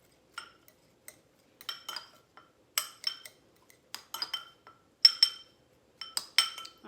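A spoon stirs tomatillo ingredients in a bowl, giving light, intermittent clinks and scrapes against the dish at close range, in short irregular clusters.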